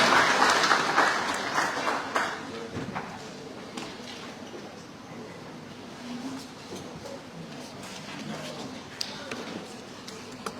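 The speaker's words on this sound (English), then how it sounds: "Please give him a round of applause." An audience at a World Entrepreneurs' Day celebration at Manipur University claps loudly at first, then the applause thins out into scattered claps and room noise.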